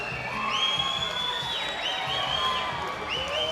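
A crowd at Eternal MMA 58 cheers and whoops after a rear naked choke submission ends a title fight. The sound is sustained and fairly distant, with a few shrill whistles rising above the noise.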